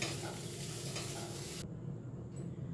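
Potatoes frying and being stirred in a pan in a home kitchen, a steady close sizzle with soft scraping stirs that cuts out partway through, leaving near silence.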